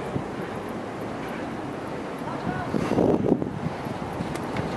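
Steady wind buffets the microphone in a constant rushing roar at a 50-metre jump site, swelling briefly in a stronger gust.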